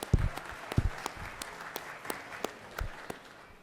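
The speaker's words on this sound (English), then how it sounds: "Let's give them a round of applause," Applause in the Georgia Senate chamber at the Capitol, a scattering of sharp hand claps with a few loud close claps, fairly sparse and thinning out over a few seconds, with room ambience between them.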